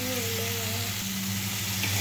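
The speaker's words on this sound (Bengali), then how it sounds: "তো মশলাগুলো এবার একটু কষিয়ে নিব" Turmeric, chili and coriander powders fry in hot oil with a steady, close, even sizzle that holds throughout, while a faint tonal hum sits beneath it.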